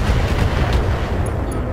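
BattleTech mech weapons unload in a dense, loud volley of continuous booming gunfire, alone without speech.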